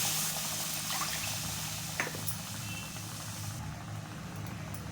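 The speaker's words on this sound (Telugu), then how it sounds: "ఇప్పుడు ఇదే కప్పుతో నేను వాటర్ పోస్తున్నాను" Water poured from a cup into a pan of ragi flour for ragi upma, a steady soft trickle and splash running the whole time over a low background hum, with a brief sharper splash midway.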